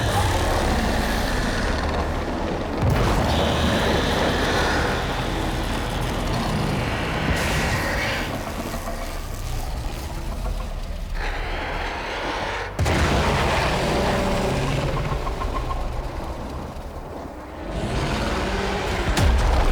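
Explosions and heavy combat noise in the video game Warframe, a loud, dense roar with booming bursts and sudden cuts, continuous throughout with no one speaking.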